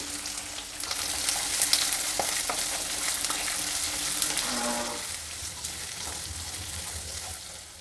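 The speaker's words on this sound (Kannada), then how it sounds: "ಈರುಳ್ಳಿ ಎಲ್ಲ ಹಾಕ್ತಾಯಿದ್ದೀನಿ ಈಗ ಸ್ವಲ್ಪ ಬ್ರೌನ್ ಕಲರಿಗೆ ತಿರುಗ್ಕೊಂಡಿದೆ" Onions, chana dal and green chillies fry in a pan with a steady, close sizzle, and occasional stirring scrapes can be heard throughout.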